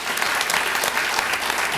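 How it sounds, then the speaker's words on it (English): Applause from a seated audience at a December 2005 oath of office ceremony, a steady dense wash of clapping hands with no voices over it. "She's getting an applause from her daughter."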